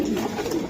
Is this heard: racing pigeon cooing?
yes